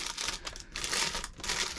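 A sealed plastic bag from an Amazon parcel box crinkles up close, with a continuous rustling and crackling that pauses briefly twice.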